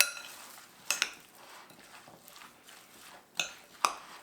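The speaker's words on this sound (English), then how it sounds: "We'll mix this on up." A spoon stirs a dinner mixture in a bowl, making soft, quiet scraping with a few sharp clinks against the side, two near the start and two near the end.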